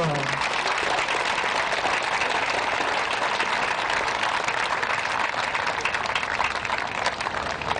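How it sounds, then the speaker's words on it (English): Steady, dense audience applause for the Danbury Drum Corps at a live community stage show, a continuous loud wash of clapping lasting several seconds after a brief voice at the start. "Ladies and gentlemen, a nice round of applause for the Danbury Drum Corps."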